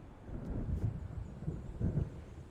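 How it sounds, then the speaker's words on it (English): Thunderstorm in the video game Alan Wake: low, rolling thunder rumbles with a soft wash of rain, fairly quiet and distant, swelling a few times without any voices. "It seems there's a storm coming."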